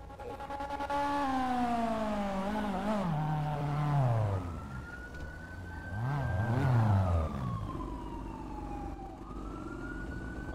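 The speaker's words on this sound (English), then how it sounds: "What's going on with all fucking sirens anyway?" Wailing police sirens in a video game sweep up and down in pitch, overlapping one another, loud and close, with a steady tone holding near the end.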